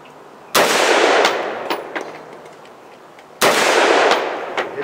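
Two sharp, loud Colt AR-15 rifle shots crack about three seconds apart outdoors, each followed by a ringing decay and faint echo.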